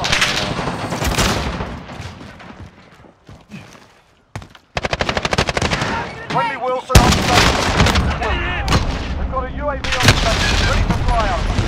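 Gunfire in the shooter game AMR comes in loud bursts of rapid shots and booming blasts, broken by short pauses, with a voice talking over it.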